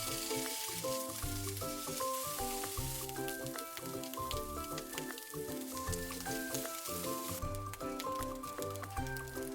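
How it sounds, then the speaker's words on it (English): Food sizzles steadily in a frying pan while an Italian salad is prepared, a continuous crackling hiss kept mostly beneath a loud melodic music track. "Frying."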